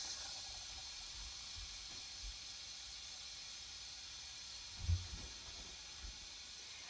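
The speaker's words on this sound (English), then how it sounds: "Now that it's done cooking, vent it to steam." Continuous broad hiss of steam venting under pressure from an Instant Pot pressure cooker after cooking potatoes, steady and fairly loud, with a few faint low thumps.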